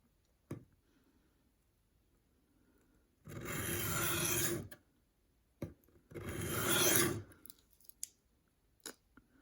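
Knife edge drawn along a stone on a budget sharpening system, two long rasping strokes of about a second and a half each, with light clicks and taps between them in a quiet room.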